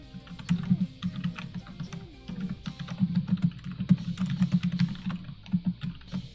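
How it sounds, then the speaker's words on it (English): Clicky computer keyboard clatters in rapid, uneven bursts of keystrokes, close up and crisp, with short pauses between runs of typing. "you guys can now hear my clicky clackies of my keyboard."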